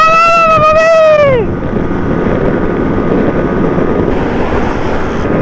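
A Benelli motorcycle revs high on a long straight road, its whining engine note falling sharply as it eases off, then giving way to steady roaring wind and road noise.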